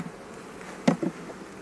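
Honey bees buzz around an open hive during queen installation, a close, soft hum with a couple of brief louder passes as individual bees fly near.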